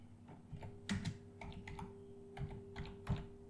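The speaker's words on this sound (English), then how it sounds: "Just click the search bar and just type X login" Typing on a computer keyboard in a quiet room, a short run of soft, close key clicks in an uneven rhythm with brief pauses, faint and alone against a low electrical hum.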